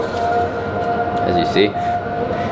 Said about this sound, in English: you can hear the mosque and the prayers going